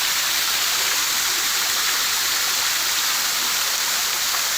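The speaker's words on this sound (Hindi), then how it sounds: "यहाँ गिर रहा पानी।" Water from an ashram pool spilling down into a wooded ravine, a constant hissing rush heard steadily and fairly near, with no voices over it.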